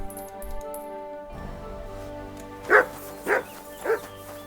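A dog in a video game quest barks and yips three times in quick succession over a sustained music bed, with a lower sound near the start.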